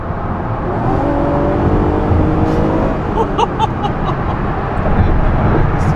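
A car accelerates hard on a Miami road, a loud close engine roar building steadily under the cabin, with a few voices talking and some brief higher tones near the end.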